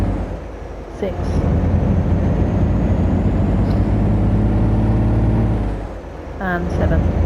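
In the Alaskan Road Truckers video game, a nine-gear truck engine drones steadily as it pulls, with short hisses and breaks around the gear shifts, heard loud and close throughout.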